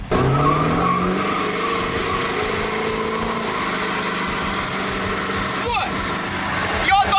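Ford Power Stroke diesel work truck engine running hard on wet ground, a loud continuous drone that stays steady throughout with a brief rising sweep near the end.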